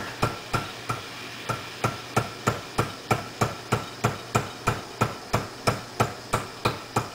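A hammer bangs in a steady, regular rhythm, about twenty sharp metallic strikes, loud and close with no talking.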